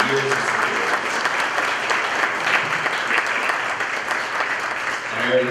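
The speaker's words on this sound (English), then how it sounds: "If we could give them a round of applause for their years of support." Audience applause fills a meeting hall at an association's annual meeting as sponsors are thanked, a steady, dense clapping that stays fairly even for several seconds with no voices over it.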